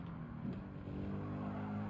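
A race car in Gran Turismo 7 runs off into the gravel after getting on the power too soon, its engine droning steadily at low level with a brief scuffing burst near the start.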